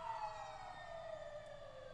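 Emergency vehicle sirens sound steadily outside, a continuous wailing tone held through the short span at low to moderate level, heard from indoors with no talking.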